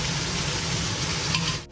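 Blended spice paste for Lombok-style Ayam Taliwang sizzling as it hits hot oil in a pan, a steady close broadband frying hiss that stays even before fading briefly at the end, with no voices.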